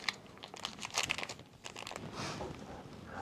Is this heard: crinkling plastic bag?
yes